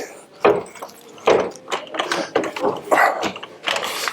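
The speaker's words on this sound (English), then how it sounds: "we're going to lift the axle using the jack" A jack raises the axle of a Land Rover Defender 90 during a suspension upgrade, giving a series of close, irregular mechanical clicks and ratcheting knocks in uneven bursts.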